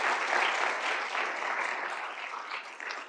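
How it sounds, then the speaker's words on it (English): Sustained applause from a conference audience at a health sector leaders event, a dense steady wash of many hands clapping for about three seconds, tapering slightly near the end. "let's have a round of applause for all three speakers so far"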